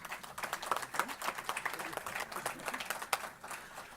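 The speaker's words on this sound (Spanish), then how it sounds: "para quien pido un fuerte aplauso" Faint, brief applause for a faculty director at a university accounting event, a crowd of scattered claps heard from a distance for a few seconds.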